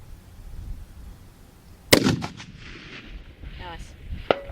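28 Nosler rifle built on a K.S.Arms action fires outdoors, one sharp, loud crack followed by quick echoing reports, with another shot near the end and a voice briefly heard.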